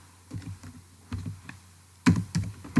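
Typing on a computer keyboard, with short bursts of soft, close key clicks that come in irregular clusters and grow a little louder toward the end, with no voice.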